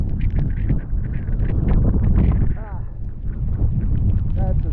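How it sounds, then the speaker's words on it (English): A strong typhoon wind gust roars across a street in Taipa, Macau, a dense, sustained rumble with rain. It stays loud and turbulent throughout, with heavy buffeting on the microphone. "Strong gust right there"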